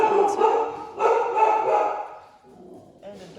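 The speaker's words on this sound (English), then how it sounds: "And a dog barking." A dog named Duke barking indoors, a few close, loud barks and a yip at the start, then quieter whimpering noises toward the end.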